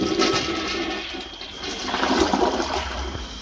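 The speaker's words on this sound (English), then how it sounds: "We got our new toilet. Time to test it." A newly installed toilet flushes, a loud close rushing swirl of water that surges and drains steadily for several seconds.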